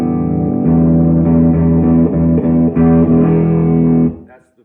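Electric guitar on the bridge pickup with the bass control turned all the way up, played through a 1960s tube tape-recorder amplifier. It gives a warm, slightly distorted run of sustained notes and chords that ring for about four seconds before fading out.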